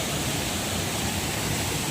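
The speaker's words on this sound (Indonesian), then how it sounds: "Sekarang kita udah nyampe di air terjun Baburai." Steady roar of water pouring down at Baburai waterfall in Padang Pariaman, Sumatra, a dense, continuous rushing wash heard up close with no breaks.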